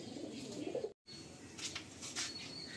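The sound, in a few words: Madrasi pigeons cooing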